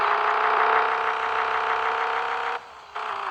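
An off-road truck engine in a video game drones at a steady idle-like pitch, a smooth synthetic hum with clear tonal layers that dips briefly near the end and then returns.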